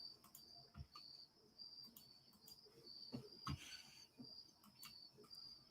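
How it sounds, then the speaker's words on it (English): Crickets chirp steadily on a night outdoors, a continuous high, pulsing trill that stays fairly quiet, with a few soft knocks and rustles underneath. "the crickets are overwhelming"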